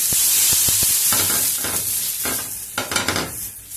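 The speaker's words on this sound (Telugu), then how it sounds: "ఫస్ట్ నీళ్ళు చల్లండి." Water sprinkled onto a hot dosa pan sizzles loudly and steadily, with sharp crackling bursts flaring up several times as drops hit the metal, close and alone.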